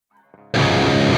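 Heavily distorted metal electric guitar through a Neural DSP Gojira X amp plugin: a faint sustained note swells briefly, then a loud, dense, saturated chord crashes in and rings on steadily to the end.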